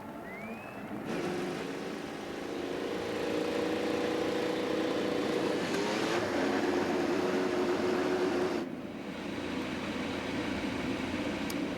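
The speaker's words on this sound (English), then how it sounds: "Drivers, start those ethanol-powered engines." IndyCar race car engines running on ethanol start up at the 2018 Iowa Corn 300, a broad, steady droning roar that holds for several seconds, dips briefly, then continues.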